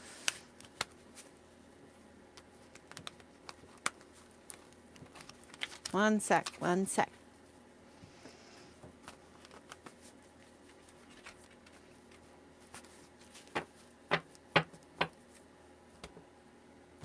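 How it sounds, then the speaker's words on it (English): Tarot cards being shuffled in a quiet room, a brief rapid riffling burst around the middle followed later by a few soft taps and flicks, with a short spoken aside. "Let me give my cards a brand new little shuffle here."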